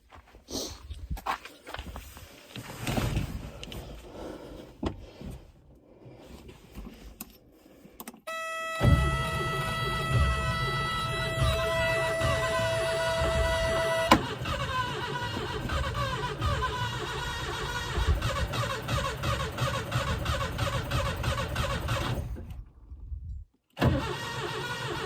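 A Subaru Brat that has sat for 28 years is cranked over. Rough churning and whirring give way to a loud, steady engine drone with a high whine, and it then cuts off abruptly near the end. No voices.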